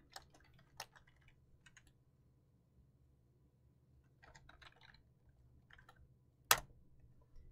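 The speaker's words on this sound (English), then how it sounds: "There's a lot of typing involved with cheating" Fingers tap on a computer keyboard in quiet, scattered bursts of soft keystrokes, with one sharper, louder click near the end.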